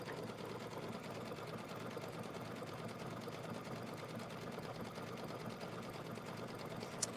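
Sewing machine stitching decorative stitches, a steady, even whir of rapid needle strokes running alone at low, consistent loudness throughout.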